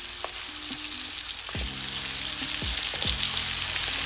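Meat, onion and carrot sizzling steadily in a pot, a continuous bright frying hiss with a few utensil clinks and scrapes partway through, close and without talking.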